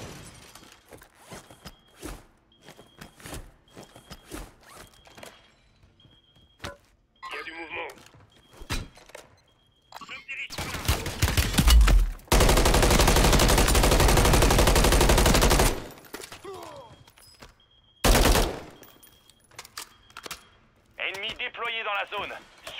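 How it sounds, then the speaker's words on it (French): Gunfire in Call of Duty, scattered shots and a long, loud sustained burst in the middle, then another short burst, while voices speak over the action throughout. "J'essuie des tirs."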